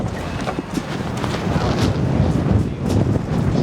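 Strong wind buffets a microphone outdoors in Kansas, a loud, continuous rumbling roar with gusty surges and no voices.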